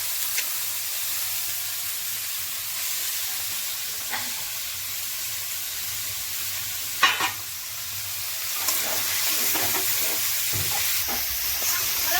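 Chopped banana flower added to spice masala cooked down with salt and turmeric, frying with a strong hissing sizzle throughout, plus scattered stirring scrapes and a clatter around the middle.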